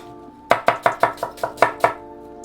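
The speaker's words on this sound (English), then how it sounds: "finish cutting that onion" Eight sharp knife strokes chop through an onion on a cutting board for pickled onions, the crisp cuts landing in a quick, slightly uneven rhythm, close and clear with no voices.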